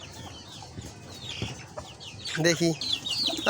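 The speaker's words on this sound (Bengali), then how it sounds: "এই যে আমাদের এই গলা ছিল মুরগিটা" A naked neck hen clucks in a few short bursts close by, over a noisy farmyard background, with a brief spoken word.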